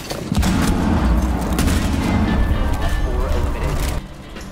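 Gunfire and booms in Rainbow Six Siege form a dense, loud barrage for about four seconds before dropping off, with a voice talking over the shooting.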